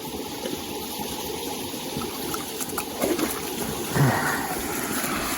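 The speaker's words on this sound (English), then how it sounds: "Found a nice mountain stream here." Continuous rushing water from a mountain stream in the Tetons, steady and close, with a few brief splashes and no voices.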